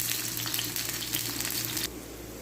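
Large chopped onions frying in a pan until brown, a dense continuous sizzle and crackle that suddenly drops to a quieter sizzle near the end.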